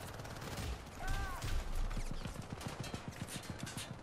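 Rapid gunfire crackles through a co-op firefight in the game Syndicate, dense bursts of automatic shots with a quick rhythmic stutter toward the end, steady and fairly loud, with a voice briefly heard in the mix.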